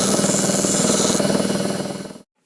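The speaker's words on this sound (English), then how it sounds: "Now I'm just going to take the burrs off with the grinder real quick." An electric grinder deburring a drilled knife tang made from a saw blade, a loud continuous whir with a rapid pulsing rattle that winds down and cuts off.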